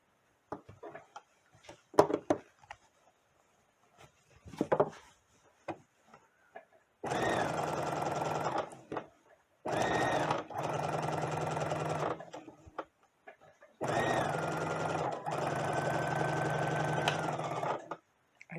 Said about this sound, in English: on my sewing machine, I can generally sew over a pin